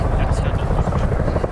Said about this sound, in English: We'll start the show by seeing the aircraft pull up for a wing over, rapidly turning back round onto target